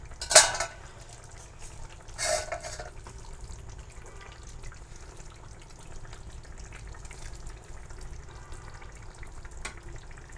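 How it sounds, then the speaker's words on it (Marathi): A pot lid comes off a pan of slow-cooking Bhogi mixed vegetables over low gas: a sharp metallic clatter right at the start and a second softer clink moments later, then a quiet simmer. "मी आता झाकण काढून पाहणार आहे भाजी"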